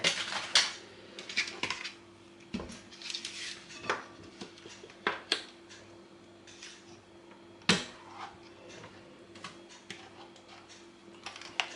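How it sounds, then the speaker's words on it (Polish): A whisked egg and sugar mass being mixed with cheese for a cheesecake, a utensil clinking and tapping against the bowl in irregular bursts over a steady low hum, fairly close. "Masa jajeczna ubita z cukrem. Pomieszam. I dodam ser."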